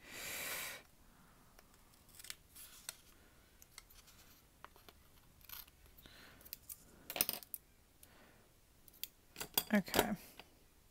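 Several short, crisp scissor snips and clicks cutting paper for a planner notebook, scattered over about ten seconds, close by, with soft handling noises between them and no talking.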